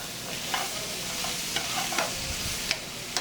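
Octopus and potatoes are tossed and stirred in a hot pan, giving a steady soft sizzle broken by several sharp scraping clatters as the pan is shaken, close and moderately quiet with no talking.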